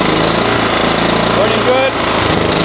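A Ransomes walk-behind lawnmower engine runs steadily and loudly up close, a continuous mechanical drone with no clear rev change.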